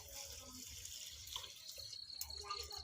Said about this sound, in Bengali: আমার প্রেশার কুকারে পানি দিয়ে দেব ডাইলের ভিতরে